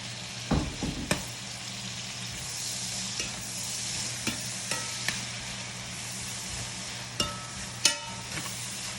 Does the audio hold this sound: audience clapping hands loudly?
no